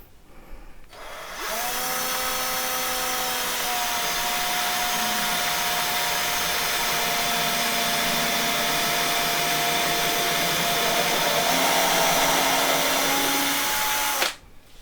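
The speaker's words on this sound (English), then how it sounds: "we're using an electric screwdriver" Electric screwdriver driving a screw during home building, a steady close motor whine running continuously for about thirteen seconds with slight pitch shifts as it loads, then stopping abruptly.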